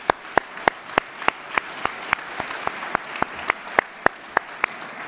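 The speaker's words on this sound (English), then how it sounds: "let's give Commissioner Ortiz a round of applause" Slow, evenly spaced hand claps ring out at a city oath-of-office ceremony for a newly sworn-in commissioner. About eighteen sharp, distinct claps sound over quiet room tone, with no talking.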